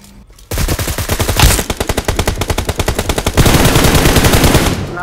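Rapid automatic gunfire in BGMI / PUBG Mobile, a loud close burst of fast rattling shots that keeps firing for several seconds with a slight shift in tone partway through.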